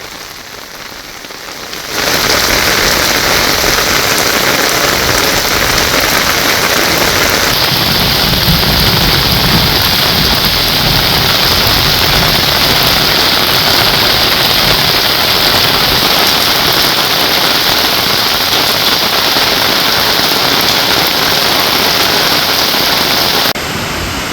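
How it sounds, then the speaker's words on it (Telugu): Heavy rain pours down over northern Telangana in a dense, continuous roar that begins abruptly and stays loud and steady throughout, with no voices. "ఉత్తర తెలంగాణ వ్యాప్తంగా భారీ వర్షం కురుస్తోంది"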